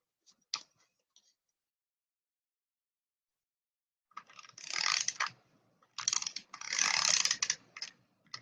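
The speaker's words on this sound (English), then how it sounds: "tape runner, there you are, tape runner." Tape runner dispensing adhesive onto card during papercraft card-making, heard as a faint click near the start, then two longer bursts of dense, close clicking and ratcheting as the roller is drawn across the paper.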